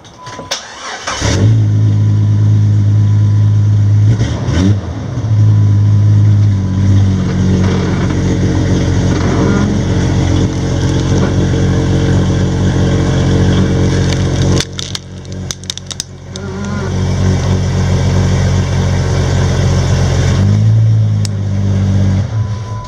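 A small DM007 toy vehicle's electric motor starting up and running loud and close, with a steady whir that cuts out briefly near the start, again around the middle and once more toward the end before resuming.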